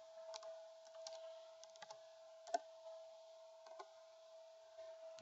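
Quiet, sparse keystrokes on a computer keyboard as a place name is typed into a search box, soft irregular clicks over a steady electronic hum.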